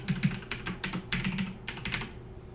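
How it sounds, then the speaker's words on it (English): Steady typing on a computer keyboard while entering login details, a run of close, quick clicking keystrokes with brief pauses between bursts, no voices. "I'm going to go ahead and start typing in my Del Mar information here."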